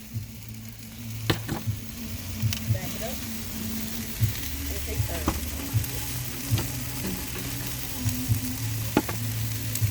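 Food sizzling in a pan at a Memorial Day weekend cookout, a steady close crackle with intermittent sharp pops and stirring clatter running throughout, under a low background hum.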